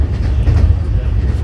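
Deep, continuous rumble from onboard the 13009 Doon Express on its Kolkata-to-Varanasi run, a steady low roar of the running train with a voice speaking over it.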